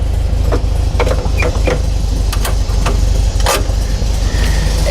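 An old Volkswagen Beetle with a 4-speed manual idles roughly on a cold start: a steady, loud, low engine rumble with a faint uneven pulse running through it, heard close and with no voices.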